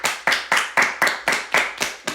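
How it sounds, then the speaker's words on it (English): A small group of people clapping in slow, even unison, about eight sharp claps spaced roughly a quarter second apart, close and fairly loud with a quick decay after each, no talking in between. "Let's have an applause"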